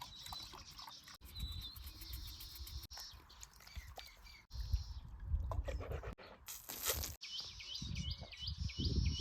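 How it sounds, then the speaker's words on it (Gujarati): Faint chirps of sparrows in a forest in Gujarat repeat in short bursts over soft rustling and trickling noise, with a few sharp knocks in between. "ચકલાનો અવાજ આવે"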